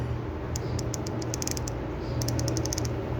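Rapid series of small metallic clicks from an imported ratchet wrench in two bursts, bright and close, over a steady low background hum.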